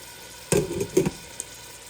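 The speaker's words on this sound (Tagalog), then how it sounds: "Gisa-gisa natin siya." Aromatics sauté in a hot pan for a milkfish and shrimp dish, with a couple of sharp stirring clatters over a soft background sizzle, close and brief.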